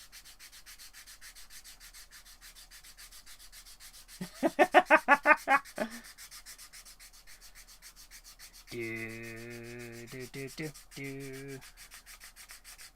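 Hand sanding under a desk gives a short burst of rapid rhythmic rubbing strokes, fairly close and moderately loud, set among quiet room tone with a brief spoken word nearby.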